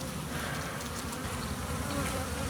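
Honeybees buzz at an open hive during a frame inspection. The hum is dense and continuous, close to the listener, with no talk over it.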